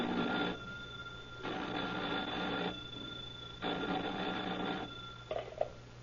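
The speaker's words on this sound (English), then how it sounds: "the telephone in the office of Sheriff Durley in Ventura rang an insistent summons." An old-time radio drama sound effect of a sheriff's office telephone ringing insistently, with three long bell rings separated by pauses, then a short fourth burst, clear and close.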